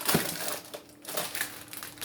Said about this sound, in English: the other thing I put in the plastic bag is a few of whole wheat crackers to go with the salad